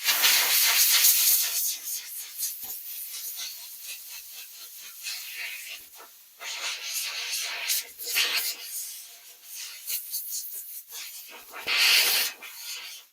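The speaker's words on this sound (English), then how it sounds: "I'll blow the excess off, and then the rest of it I let air dry." Compressed air blown through a Uni foam air filter to clear off excess liquid, loud close hissing bursts that rise and fall in several long blasts with short pauses between.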